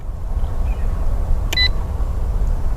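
A short electronic beep sounds once from an MJX H8H+ RC crawler as its remote switches into high gear, a brief double-toned chirp over a low steady background hum.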